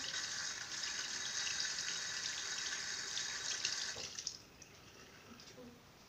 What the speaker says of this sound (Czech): Aby se nebyla čuňátka, tak si pořádně umyju ruce